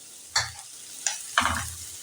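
Chopped coconut frying with pumpkin in a pan with a little oil, a quiet sizzle punctuated by three distinct scraping stirs of the spatula, close and fairly soft.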